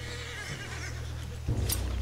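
A horse whinnies in the video game Red Dead Redemption II over a steady low rumble, with a louder burst of activity joining near the end.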